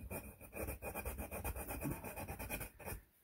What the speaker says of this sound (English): Sanding, sanding.